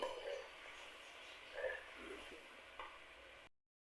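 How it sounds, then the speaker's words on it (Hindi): Diced potatoes fry in oil in a home kitchen pan, a soft steady sizzle with faint stirring scrapes throughout, quiet and close, ending abruptly in silence. "यहाँ गाइस आलू जो हैं वो भुन रहे हैं"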